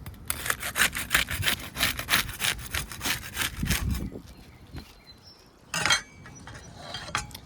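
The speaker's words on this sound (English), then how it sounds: "Use the putty knife to unseal the top shingle." A putty knife scrapes and pries under asphalt roof shingles to break their seal, giving dense, rapid rasping strokes up close, then a quieter stretch broken by a short loud scrape near the end.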